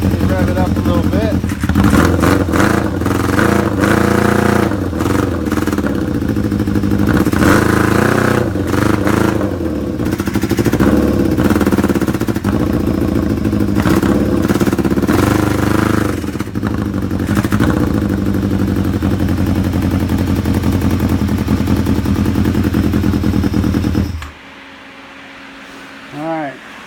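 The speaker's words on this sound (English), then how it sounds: "Rev it up a little bit." Loud 2001 Yamaha YZF-R6 engine on a straight exhaust revving repeatedly with rising and falling pitch for about 24 seconds, rough and slightly fuel-starved, then cutting off abruptly into near silence.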